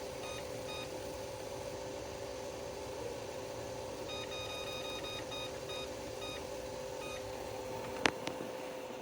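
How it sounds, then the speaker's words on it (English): Electronic timer beeping as it is set to 30 minutes during a pineapple bromelain experiment; short tonal beeps in groups over a steady low hum, alone without talk, with a sharper click near the end. "And now we're going to set a timer for 30 minutes."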